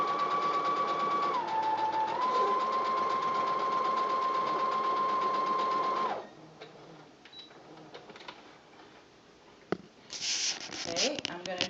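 A sewing machine stitching a chimney block onto a quilt, running steadily with a loud whirring hum for about six seconds, then stopping, followed by quiet handling noises and fabric rustle.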